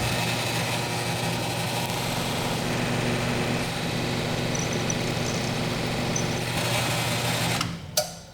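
A power drill fitted with a 5/16 titanium bit runs continuously with a steady motor whine and hum, close and fairly loud, then stops abruptly near the end.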